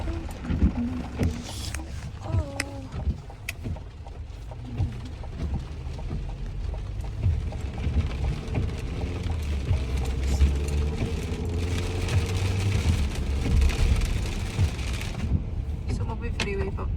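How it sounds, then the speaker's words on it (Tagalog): Heavy rain in a windy typhoon makes a continuous wash of noise with low rumbling gusts, and a few faint background sounds and brief voices come through at the start. "Ngayon na naman umulan ng ganito kalakas."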